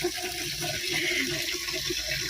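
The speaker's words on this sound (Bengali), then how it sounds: "আর আমরা এখন এখানে জামা কাপড় ধুচ্ছি।" Clothes being washed by hand with Dettol under a steady stream of running water, a continuous splashing rush that stays even throughout with no voices.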